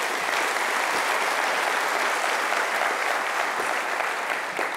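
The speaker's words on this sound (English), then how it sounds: "can we have a big round of applause for that new family tradition?" A large university orientation audience gives a big, continuous round of applause, dense and even from start to finish with no talking over it.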